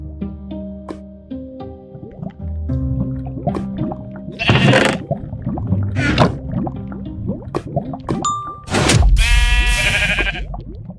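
A sheep bleats several times in a puzzle video game, loud and close with wavering cries between musical tones and watery dripping effects.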